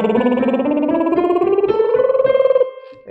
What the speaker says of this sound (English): if I go like higher with my lip trill